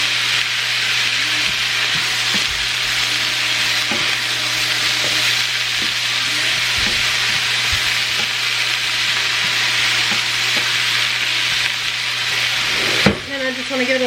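Food frying in a pan with a splash of sesame oil, producing a loud, continuous sizzle with scattered stirring knocks and a sharp utensil clack near the end; no talking.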